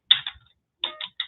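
Computer keyboard keys clack in two short clusters of a few quick taps each, close and crisp, separated by a brief pause of quiet.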